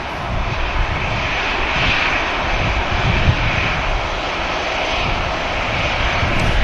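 A low-cost airliner such as a Ryanair or EasyJet jet approaches Manchester Airport, its engines producing a loud, continuous broadband roar that holds steady and swells slightly as it nears.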